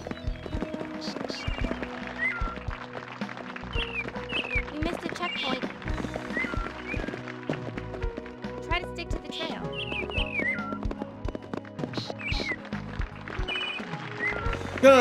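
Horse hooves clatter rapidly in a galloping rhythm in a PlayStation 1 game, mixed with game music and chirpy effects and a player talking over them.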